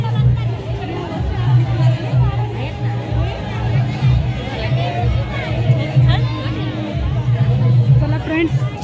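Steady babble comes from a packed, crowded queue, with many voices talking over one another at close range and a constant low hum beneath the chatter.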